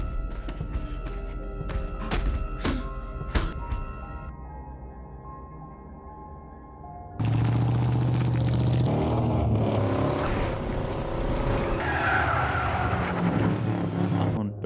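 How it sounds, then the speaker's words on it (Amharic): A car drifting at high speed in a film scene: after a quieter stretch with sharp knocks and tonal sounds, a loud sustained engine roar and tire noise take over, continuous and close, with voices present. "በከፍተኛ ፍጥነት መኪናን የማሽከርከር ወይንም ድሪፍቲንግ"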